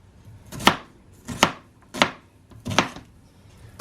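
Knife chopping an onion on a cutting board while making bean soup, five loud, evenly spaced chops close by with no talk.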